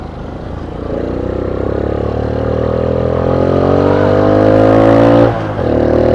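An old motorcycle engine revs up close, pitch climbing steadily for several seconds, then dropping briefly before picking up again.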